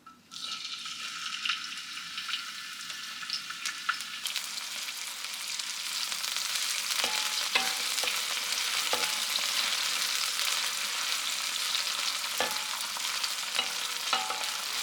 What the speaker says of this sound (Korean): 먼저 예열된 팬에 식용유를 3스푼 정도 넣으시고 청양고추와 파를 넣고 기름을 내줍니다.